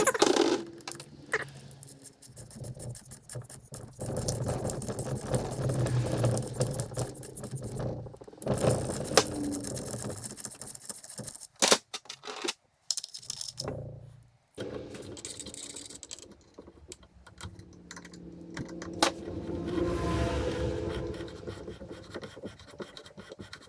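An M10 x 1.25 tap cuts through damaged 14mm bolt threads with scratchy metal grinding and clicking, in irregular bursts broken by short pauses, fairly close and moderately loud.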